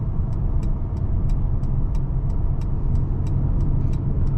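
A 2022 Mercedes-AMG CLS 53 heard from inside as it drives through a highway-exit corner, a steady, loud low engine and road rumble with a faint regular ticking, no talking.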